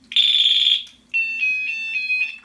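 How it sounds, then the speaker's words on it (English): A water-level sensor on a water-powered backup sump pump sounds its alarm: a loud, shrill electronic tone lasting about a second, then after a short gap a pulsing beeping tone, close and clear with no speech. "one is an audible alarm"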